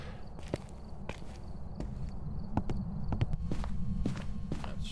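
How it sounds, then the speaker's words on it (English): Footsteps in the ghost-hunting video game Phasmophobia, a series of sharp irregular thuds and taps over a steady low rumble, moderately close with no talking. "We heard a footstep immediately."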